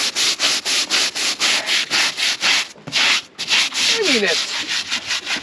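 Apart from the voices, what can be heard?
scrubbing barnacles off a Stryker PRO 420 boat hull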